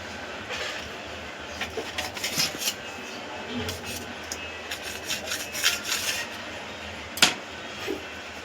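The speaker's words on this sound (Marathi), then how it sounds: "आपण व्यवस्थित सुरीच्या साहाय्याने किंवा तुमच्याकडचा कटर असेल तर तुम्ही त्या सहाय्याने हे कट करू घेऊ शकता" A knife cuts through a street-style veg sandwich at home, giving a continuous scraping, rasping sound with short irregular crunchy bursts and one sharper knock near the end.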